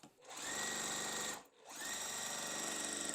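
A sewing machine stitches corner pieces onto a quilt block in two steady whirring runs, close and fairly loud, split by a short pause, with no talking.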